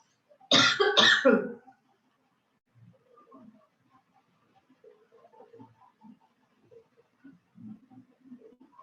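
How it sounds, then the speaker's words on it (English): Two sharp, loud coughs close to the microphone, followed by faint, scattered background sounds. "today actually I have a very bad cough"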